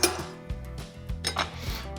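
Metal clinks and knocks as the locking ring comes off the front of a meat grinder, a few short, close taps and rattles of metal parts, quiet with no talk.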